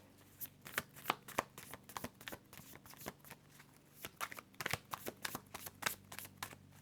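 A deck of oracle cards is shuffled by hand in a quiet room, producing a rapid series of crisp, close riffling snaps and slaps in uneven bursts, with faint speech nearby.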